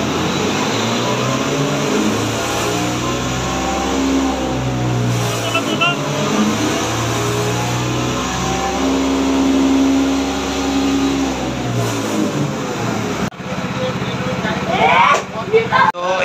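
A TVS Apache RTR 4V 160 motorcycle with a sound problem idles and revs steadily nearby, its side covers removed; its mid-pitched engine note rises and falls throughout, with a voice speaking over it and clattering near the end.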